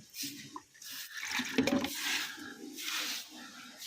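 Cow-dung water splashes and patters onto the hard ground in front of a house in a few quick throws, close by and moderately quiet, with a brief sharper slosh midway.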